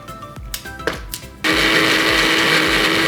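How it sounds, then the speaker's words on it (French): A kitchen blender mixes a Kinder Bueno milkshake with broken chocolate bar pieces, first clattering and knocking in short bursts, then roaring into a loud, steady high whir that holds to the end. "J'ai laissé mixer plus longtemps parce que forcément, avec les morceaux de Kinder Bueno"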